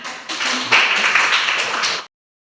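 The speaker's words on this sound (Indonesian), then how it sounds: "Oke, kita tepuk tangan." A classroom group claps their hands together in a short, steady burst of about two seconds that stops abruptly into silence.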